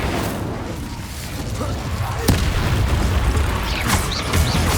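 Confringo blast spells going off in the Hogwarts Legacy video game, a sharp booming burst near the middle with a few lighter pops after it, over a dense, busy game soundscape.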